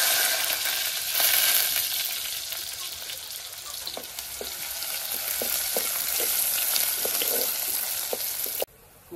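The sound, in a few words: onion frying in hot oil tempering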